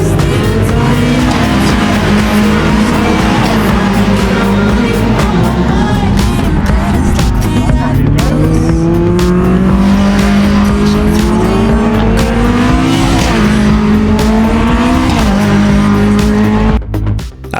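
BTCC touring cars race through the Melbourne hairpin at Donington Park, loud engines whining and rising as several cars brake, downshift and accelerate past in quick succession with no pause.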